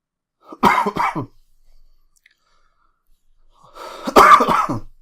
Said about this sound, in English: Sorry, you have to excuse my coughing.